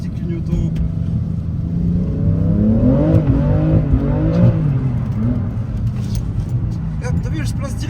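A BMW engine revs and builds while the car drifts, a steady loud drone that rises in pitch through the middle with a talking voice over it.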